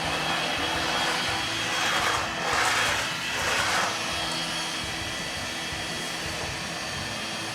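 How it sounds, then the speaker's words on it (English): Vacuum cleaner running nearby, a steady broadband whoosh that swells briefly in the middle and then settles into an even hum. "I'm vacuuming back here."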